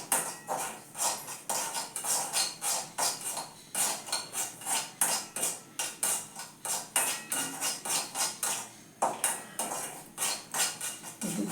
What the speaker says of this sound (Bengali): সুজিটা আমি ভেজে নিচ্ছি বন্ধুরা